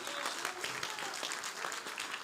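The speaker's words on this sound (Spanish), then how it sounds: "El aplauso tiene que soltarlo ahora mismo" A church congregation claps in a steady, dense wash of applause that carries evenly throughout.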